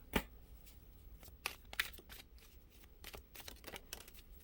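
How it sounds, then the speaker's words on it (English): Tarot and oracle cards being shuffled by hand in quick riffles and soft slides, with a few sharp snaps, close by and fairly quiet. "There's so many of these little tea leaf cards that I have to shuffle them in two batches."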